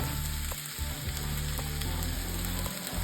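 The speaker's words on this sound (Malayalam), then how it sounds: "ചെറിയ തീയിൽ ഇത് കിടന്നൊന്ന് വേവട്ടെ നമ്മുടെ മീൻ" Mackerel sizzling steadily in a hot pan over low heat, a constant close crackle with occasional brief dips.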